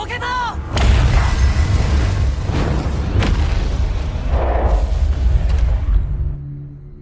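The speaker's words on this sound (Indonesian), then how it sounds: "Alhasil, pesawat induk pun benar-benar hancur." In a film scene, an alien mothership over Shanghai is destroyed in a massive explosion: a loud, continuous rumbling blast with booming low end and crackling debris that rolls on for several seconds before cutting off.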